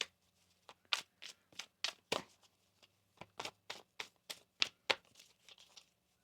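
Tarot cards are shuffled by hand in a series of crisp riffling bursts, about a dozen quick papery snaps in an uneven rhythm, close and fairly quiet with brief pauses between.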